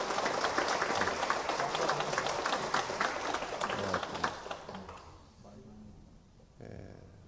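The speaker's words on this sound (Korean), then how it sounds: "우리 박수 한번 해주세요" Church congregation claps together at a Sunday morning worship service, a dense burst of applause for several seconds that fades out, followed by a short quieter stretch.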